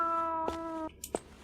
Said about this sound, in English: Yes, kitty, I hear you.